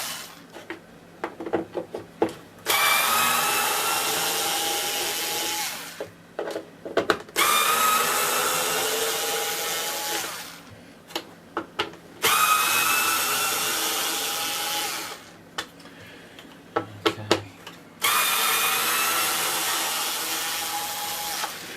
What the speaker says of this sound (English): I'm just going to remove all of those screws now using the T20.